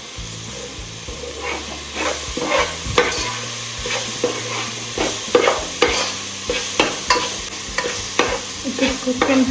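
Masala with pepper being stirred and fried in a pan over high flame, with constant sizzling and hissing broken by repeated scraping and clinking strokes of the spoon against the pan, close and loud with no talk.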